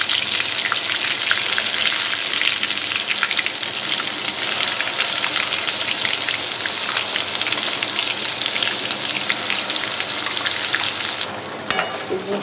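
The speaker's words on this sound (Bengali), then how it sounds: "তেলটা আমার গরম হয়ে গেছে, এবার আমি পেস্টটা দিয়ে দিচ্ছি।" Curry paste for an omelet curry gravy frying in hot oil, giving a loud, dense, continuous sizzle up close that eases slightly near the end.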